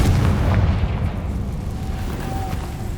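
Confringo blasting spell detonating in Hogwarts Legacy: a loud, rumbling boom with a dense low-end roar that slowly decays, a faint tonal whine rising through the tail.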